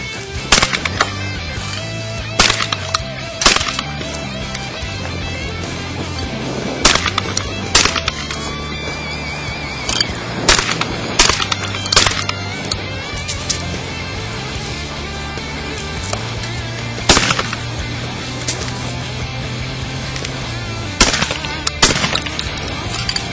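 Beretta Extrema II semi-automatic shotgun firing in quick strings of sharp, loud blasts, spread irregularly across the stretch over a steady background of music.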